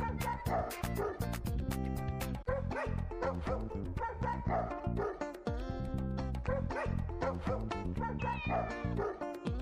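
Dogs at the Paluch animal shelter bark in a loud, dense chorus of overlapping yips and woofs, steady and reverberant throughout, with no clear talking.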